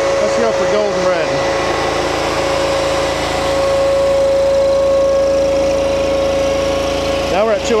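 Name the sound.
engine running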